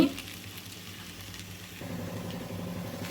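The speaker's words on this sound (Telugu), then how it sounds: "ఇంకా కొంచెం సేపు వేగాలి. వేగితేనే ఎంత వేగితే అంత బాగుంటుందండి దొండకాయ ఫ్రై" Ivy gourd (tindora) frying in a pan, a steady close sizzle that runs throughout, with a low hum that thickens partway through.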